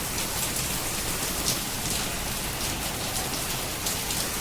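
Heavy, steady rain falls just after a brief hailstorm, forming a dense, unbroken roar of drops on surfaces, close and loud, with no voices.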